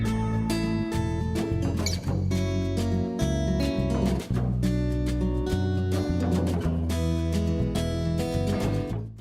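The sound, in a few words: boss level music track from video game Mr. Bones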